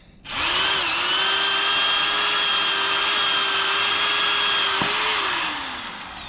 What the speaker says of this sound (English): drill these holes and put these bolts in.